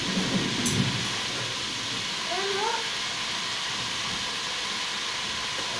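Pork liver frying in a pan gives a steady, close sizzling hiss that runs unbroken throughout, with a brief clatter near the start and faint squeaky tones in the middle.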